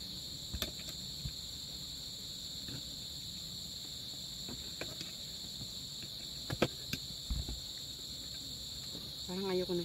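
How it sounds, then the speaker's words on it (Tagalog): Crickets chirp in a continuous high-pitched drone, with scattered soft clicks and taps in the foreground. "Ay, narinig niyo na yung kulig-kuliglig."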